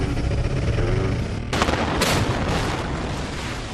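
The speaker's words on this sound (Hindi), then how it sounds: "धमाका होगा और ये ट्विन टावर जमींदोज हो जाएंगे" Controlled demolition charges fire in the 32- and 30-storey twin towers: a loud, sharp blast, then a second crack half a second later, followed by a sustained roaring rumble of collapse.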